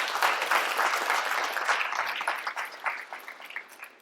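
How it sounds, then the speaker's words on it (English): A crowd applauds steadily during an ambassador's speech, the clapping thinning slightly toward the end. "I think you should give another round of applause"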